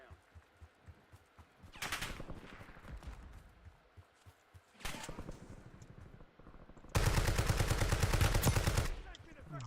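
Gunfire in Call of Duty Warzone comes in bursts: a short volley, a second burst a few seconds later, then a longer loud stretch of rapid automatic fire, with softer game noise between them.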